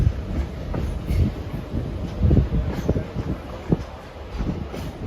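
Passenger train on the Lehigh Gorge Scenic Railroad rolling behind R&N F unit diesel locomotives, with a steady low rumble and rhythmic clickety-clack of wheels over rail joints heard from inside a car.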